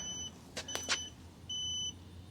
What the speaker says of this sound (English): you have a left turn signal. Hear the sound?